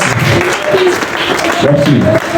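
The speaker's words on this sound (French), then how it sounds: "Acclamons pour une frère merveilleux." A church congregation applauding during a Sunday assembly, a dense steady wash of clapping under a speaking voice that carries through the whole stretch.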